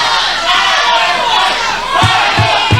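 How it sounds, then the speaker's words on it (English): A wrestling event crowd chants for the Bible Club, a dense roar of many voices filling the space, with a few rhythmic shouted beats standing out near the end. "Luke 9 looking for the chants from the crowd for the Bible Club"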